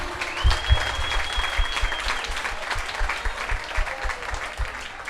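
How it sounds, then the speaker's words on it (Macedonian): Audience applause at a televised talent show, a steady wash of clapping from a crowd that starts strong and carries on evenly, with a brief electronic tone near the start. "Ајде да ја охрабриме со еден аплауз."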